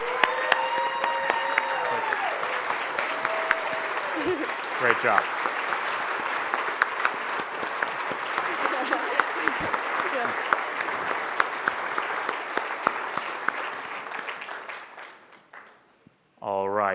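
Sustained applause from an audience honoring scholars at a charity program event, filling most of the stretch before fading out near the end, with cheers and a spoken word of praise mixed in.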